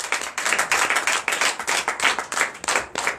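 A church congregation at a Sunday service in Benin claps rhythmically in praise, close sharp handclaps in a quick repeating beat that sounds like a small group clapping in unison.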